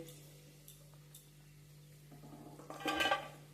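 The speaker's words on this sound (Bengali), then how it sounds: "এবার আমি এটা তুলে নিচ্ছি একটা পাত্রে" Utensils scrape and clink against a pan and bowl while lightly fried vermicelli is moved into a bowl, ending in a louder clatter over a low electrical hum.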